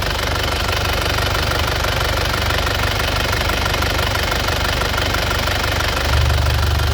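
A 2005 Grand Touring facelift car engine runs close and loud, a steady, dense idle rumble with a slight knocking texture that holds unchanged throughout.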